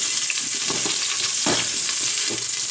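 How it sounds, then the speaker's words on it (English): A sliced onion fries in olive oil, a loud, dense sizzle hissing steadily while a utensil stirs through it with a few scraping strokes, close up and with no talk. "We're gonna add our one onion sliced, and we're gonna cook for 2 minutes."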